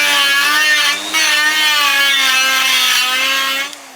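A rotary cutter grinds fins off a Yamaha RD 500 cylinder, giving a loud, steady high whine with harmonic overtones that dips briefly once and trails off at the end.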